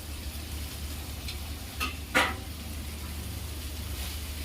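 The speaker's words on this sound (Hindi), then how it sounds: "गैस को मैं बिल्कुल स्लो कर रही हूँ और इसे 1-2 मिनट में ढक के भूनूंगी" Masala for bhindi kadhi fries quietly in a pan over low gas, a soft, even sizzle broken by two brief scraping stirs close together midway.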